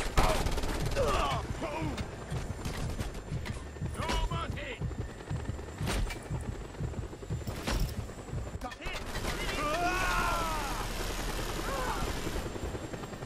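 In Just Cause 2, enemies fire on the player's helicopter as its rotor drones steadily beneath rattling machine-gun bursts and scattered shots, with whooshing game effects rising and falling throughout.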